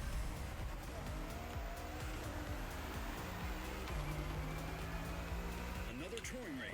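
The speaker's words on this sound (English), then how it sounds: "this sounds like a concept car" A concept car's engine in the racing game The Crew Motorfest drones continuously and loudly, holding a steady roar with slight pitch shifts and faint tire noise.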